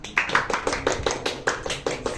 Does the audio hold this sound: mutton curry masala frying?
no